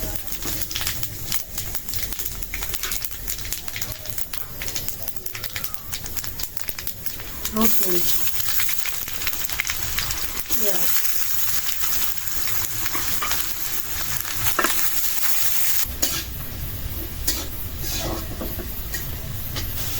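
Food sizzles in a pan with occasional scraping stirs and clinks, while a person talks over the steady frying.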